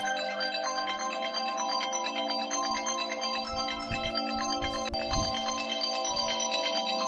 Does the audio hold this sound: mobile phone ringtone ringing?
yes